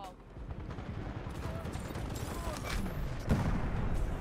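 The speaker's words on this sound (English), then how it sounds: "my teammate almost killed me by shooting that" Gunfire in the video game Titanfall 2 crackles as a dense run of shots and booms, building slightly louder toward the end with a sharper blast near the close.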